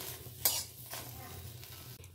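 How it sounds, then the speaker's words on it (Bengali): Neem leaves fry in a pan over a high gas flame, with a soft continuous sizzle broken by a few quick scraping stirs, one sharper than the rest. "নিম পাতা তো ভাজা হচ্ছে।"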